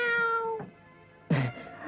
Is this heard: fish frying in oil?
no